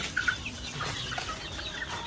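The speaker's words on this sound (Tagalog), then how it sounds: "Basta makita na lang hindi komportable yung mga manok." Chickens clucking on a farm, a few short soft clucks up close over a steady quiet background, no voices.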